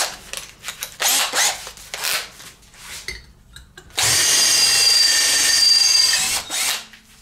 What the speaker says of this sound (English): Okay, 3mm, pilot bit, straight through.